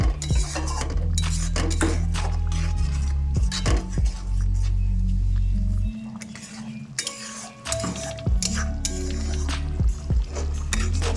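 A spoon stirs and scrapes spice paste as it sautés in a pan for egg curry with capsicum, giving repeated metallic clinks and scrapes over a low, steady cooking hum.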